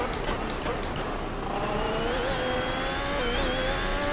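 An onboard F1 car engine screams and climbs through fifth and sixth gear on the Goodwood hill climb, its pitch rising steadily with sharp shifts, close and continuous with no talk.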